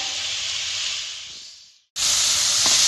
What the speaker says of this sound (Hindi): और ये गया इसमें brown rice, these are the cooked rice जो सुबह सुबह बने हैं अभी।